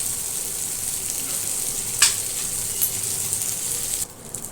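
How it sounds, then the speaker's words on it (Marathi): Tol fish frying in a pan, a constant bright crackling sizzle with a couple of sharp pops, quieting suddenly at the end. "हे बघा आता ही मच्छी आपली फ्राय झालेली"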